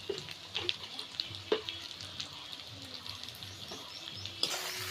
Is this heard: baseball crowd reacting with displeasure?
no